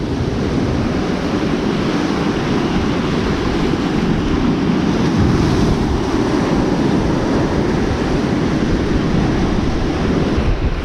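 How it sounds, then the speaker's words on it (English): Sea waves roll in on a shore during bass lure fishing, a constant loud broadband wash of surf mixed with wind buffeting the microphone, steady throughout with no talk. "There's a big roller coming."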